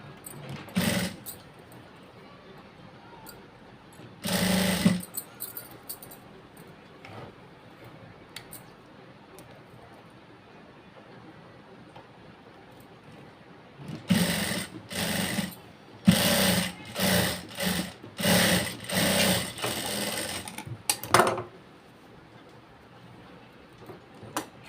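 A sewing machine stitching a blouse cross belt runs in short bursts, a rapid mechanical whirr starting and stopping several times between quiet pauses, close up with no talking.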